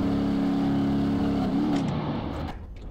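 A Jeep Cherokee Trail on 40-inch wheels crawls off-road in BeamNG, its engine droning steadily up close before the pitch wavers and the sound fades and roughens toward the end.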